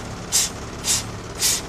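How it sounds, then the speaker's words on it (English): A truck's air brakes fanned during a DMV brake test, three short, evenly spaced bursts of hissing air release, each rising and fading over a low idling engine hum. "I'm going to fan my brakes to bring my pressure down low a little bit faster"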